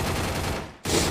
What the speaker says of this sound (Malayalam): നമ്മുടെ കൂട്ടുകാരൻ മോളിൽ നിന്ന് ഫയർ ചെയ്തുകൊണ്ടിരിക്കുകയാണല്ലോ